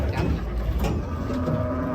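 Sacrificial cattle mooing while being unloaded from a truck, a long, low, strained moo over constant loud outdoor noise and commotion.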